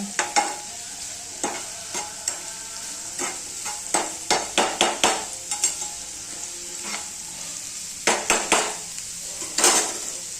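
Onion is fried in a pan over a raised gas flame until brown, with a steady sizzle under repeated sharp clacks and scrapes of a spoon stirring against the pan.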